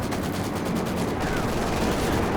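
Tank gunfire and battle noise from Company of Heroes 2, with a T-34 and StuG trading shots near a Panzer IV, forming a dense, continuous wash of rumbling fire throughout.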